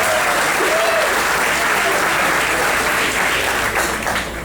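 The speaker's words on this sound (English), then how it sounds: "A round of applause for CBS Miami." Gala audience at a club's centennial celebration gives a round of applause, a loud, dense wash of clapping that holds steadily throughout with a little crowd murmur.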